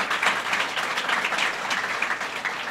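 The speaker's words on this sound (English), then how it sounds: "Let's give him a round of applause." Steady crowd applause at a governor's announcement at Glens Falls Hospital, dense clapping from many hands filling the whole stretch at an even, fairly loud level.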